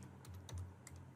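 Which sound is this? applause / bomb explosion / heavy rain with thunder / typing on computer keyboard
typing on computer keyboard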